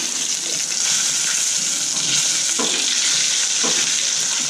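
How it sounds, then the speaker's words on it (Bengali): Chicken wings fry in a pan with a continuous close, bright sizzle and occasional shifts as the pieces are pressed and moved, with no voices. "আমার উইংস ভাজা প্রায় শেষ"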